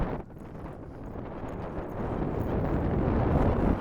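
Strong gusting wind buffets the microphone outdoors in a UK field during metal detecting on a sunny day, a steady low roar that swells louder toward the end, with no talking.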